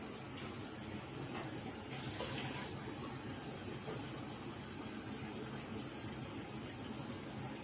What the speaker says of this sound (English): this coffee mug that I'm cleaning here, I'm just gonna kind of, you know, give it a light scrub and then a rinse